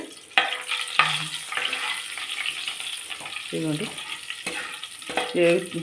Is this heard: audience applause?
no